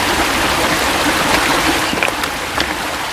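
Steady flowing stream water in a Filipino aswang horror audio drama, a continuous wash of water running loudly and evenly throughout with a few faint splashes near the end, no voices.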